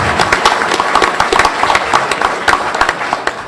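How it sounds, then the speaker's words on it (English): Audience applause for a panel at a chamber of commerce candidate forum, a loud, close burst of many hands clapping with sharp individual claps standing out, sustained throughout. "Give them a round of applause."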